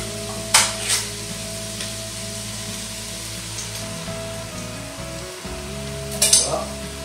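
Crushed tomatoes frying in a pan for a pasta bolognese sauce, a steady close sizzle with stirring scrapes and a couple of brief utensil clinks, beneath a constant low background hum.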